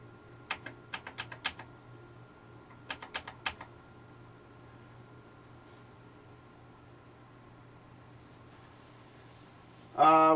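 Keys clack on a Convergent Technologies AWS Turbo computer keyboard in two quick bursts of several strokes each over a steady hum of fans, followed by a sudden loud burst at the end.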